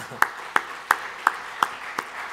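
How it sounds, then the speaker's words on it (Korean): A church congregation at a New Year's Eve watchnight service claps in unison to welcome the new year: six crisp, evenly spaced claps in a steady beat, fairly faint against a quiet room. "우리 박수로 환영합니다"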